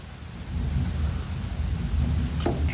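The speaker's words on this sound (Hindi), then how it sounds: "बाहर बारिश हो रही है" Steady rain falls outside with a continuous low rumble of thunder underneath, and a brief sharp crack near the end of the clip.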